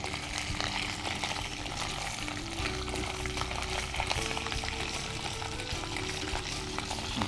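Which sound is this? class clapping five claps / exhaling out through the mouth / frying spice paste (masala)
frying spice paste (masala)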